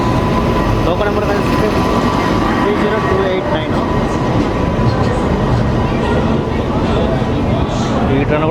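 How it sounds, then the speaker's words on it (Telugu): The Pavan Express arriving at a station platform on the Varanasi to Jayanagar route, a continuous loud rumble of rolling wagons with a voice talking over it. "సో ఇప్పుడే మన పవన్ ఎక్స్ప్రెస్ అయితే వస్తుంది."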